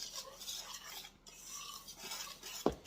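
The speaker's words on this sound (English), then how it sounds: "let me give this a whisk" Bread flour and salt whisked in a bowl for a honey oat wheat bread, a soft, steady rasping stir with a sharp clink near the end, no talking.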